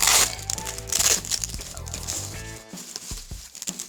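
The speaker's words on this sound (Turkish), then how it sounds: "Şöyle havalı poşet içine gelmiş arkadaşlar." Plastic bubble-wrap packaging for a phone microscope is crinkled and handled close up, with irregular crackles and rustles over a faint musical background.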